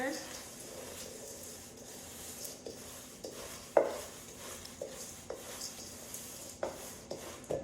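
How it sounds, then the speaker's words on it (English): Oats, baking powder and other dry ingredients stirred together in a bowl, a soft rubbing scrape with occasional knocks of the utensil against the side, quiet and close. "We're just gonna mix that all together."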